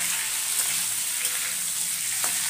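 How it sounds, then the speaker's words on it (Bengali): Chicken frying in a pan in a home kitchen, a steady hissing sizzle throughout with faint stirring touches, brief and fairly quiet, no voices. "এবার এখানে চিকেনটা একটু ভেজে নিচ্ছি।"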